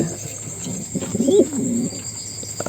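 Cooing from breeding pigeons in a loft where eggs and chicks are appearing: one clear rolling coo phrase, near and moderately loud, over faint background noise.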